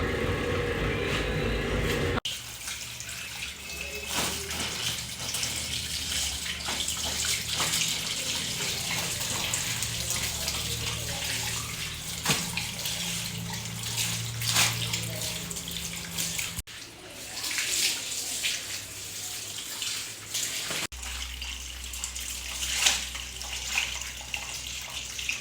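Water runs steadily from a tap while clothes and bed sheets are washed at home, a continuous loud rushing with sloshing, briefly cut off and restarting with a low motor hum underneath.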